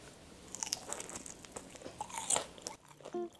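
Crisp crunching bites of air-fried tofu, a few sharp close crunches over soft background noise, followed by a brief chewing sound at the end.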